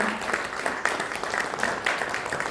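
An audience at a journalism and culture award ceremony applauds a KBS reporter receiving her award, a steady crowd of hands clapping with slight pulses, moderately loud, with a few faint voices mixed in.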